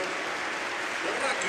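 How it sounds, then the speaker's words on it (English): A stadium crowd at a Barcelona match applauds substitutes coming on, a dense, steady wash of clapping heard with a commentator speaking over it. "Generous applause for both."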